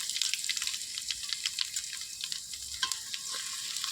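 Curry leaves and vadagam frying in hot oil with fenugreek for vatha kuzhambu give a steady, close crackling sizzle with dense bright spits and pops throughout, and no voices.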